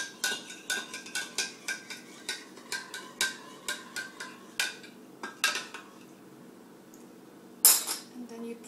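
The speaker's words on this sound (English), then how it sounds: "Add 1 tablespoon of sugar. Add more if you want it to be sweeter, and you just mix it." A spoon clinks rhythmically against a bowl while stirring sugar into milk, a quick regular series of bright taps for several seconds, then a pause and one final louder clink, close up with no talk.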